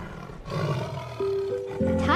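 A tiger lets out a deep, rough roar that swells and holds for most of the clip, loud and close, with sustained tones entering underneath toward the end.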